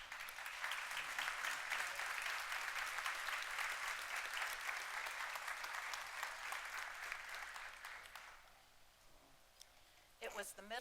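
A breakfast benefit audience gives sustained, dense applause to welcome a speaker; the clapping fades out near the end before a few close clicks.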